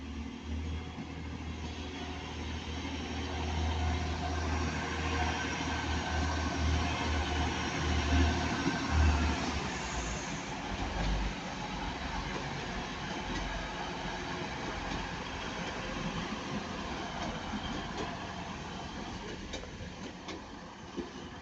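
Class 185 diesel units pass through Ardwick station, a low rumbling engine drone with rolling wheel and rail noise that swells and fades over about twenty seconds, heard at moderate distance with no talking.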